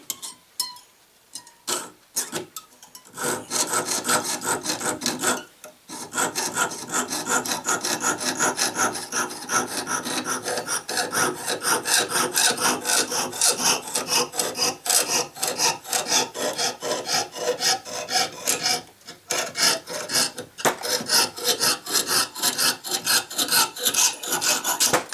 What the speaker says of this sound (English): a little bit of trimming, a little bit of saw trimming